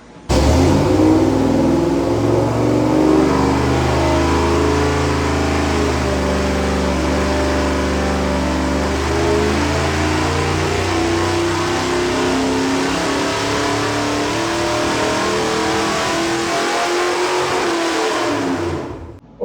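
A 350 small-block Chevy engine with a set of used cylinder heads roars loud and close on a dyno, its pitch climbing steadily through a long sustained pull before cutting off.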